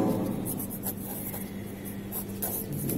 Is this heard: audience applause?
no